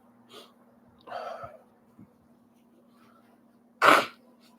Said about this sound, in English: I told you I blow my nose loud.